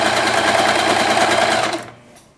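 A sewing machine runs steadily, stitching fabric for a small quilted mug cozy, loud and close with no talk, then winds down and stops near the end.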